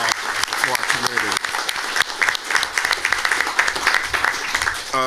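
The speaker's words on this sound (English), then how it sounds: "let's give a round of applause for our volunteers" An audience claps loudly and continuously at a community council meeting to honor volunteers, with voices chattering beneath the applause.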